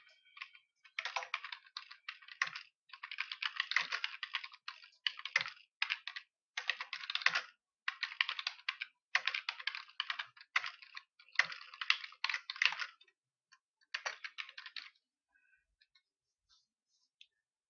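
Steady clattering keystrokes on a computer keyboard, with remarks being entered into accounting software. The typing comes in quick bursts and short pauses for about fifteen seconds, close and clear with no talking, then it stops.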